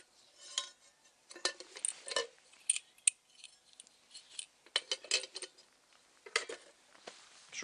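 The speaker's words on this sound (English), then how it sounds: "So this is a Gellert pan set I use." Metal camping cookware from a Gellert pan set, a frying pan, kettle and three saucepans, clinks and rattles in scattered light bursts as pieces are handled and stacked, close by and fairly quiet, with no talking.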